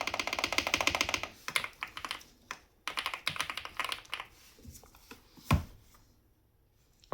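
Typing on a Kisnt 75% budget mechanical keyboard with a solid housing: dense rapid keystroke clatter at first, then sparser separate clicks and taps, close and clear with no talking.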